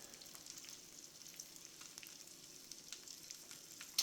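Eggs frying in a pan give off a steady faint sizzle and crackle with scattered small pops, close and continuous.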